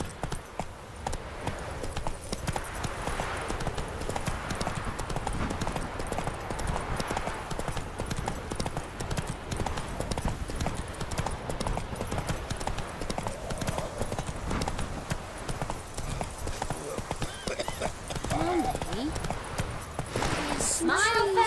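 Horse hooves clip-clop at a steady trotting rhythm in The Witcher 3: Hearts of Stone, continuous and close for about twenty seconds, with game sounds and a voice faintly underneath.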